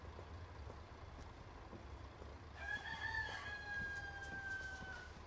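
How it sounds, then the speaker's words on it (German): A rooster gives one drawn-out crow partway through, fairly distant and moderately loud, over a steady low rumble of traffic or engine noise. "der Hahn da, der ist immer so komisch."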